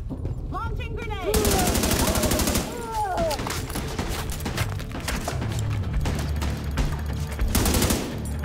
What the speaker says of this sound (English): Launching grenade!